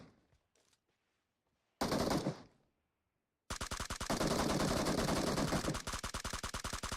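Rapid automatic gunfire in a battle royale video game: a short, loud burst, a pause, then a long, dense stream of evenly spaced shots, close and sustained, with no voices.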